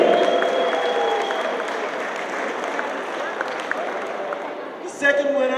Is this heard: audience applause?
yes